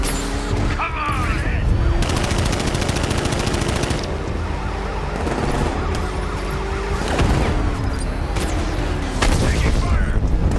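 Dense rapid machine-gun fire in the video game Batman: Arkham Knight rattles loud and continuous, mixed with a wailing siren, engine noise and game effects, with voices shouting over it.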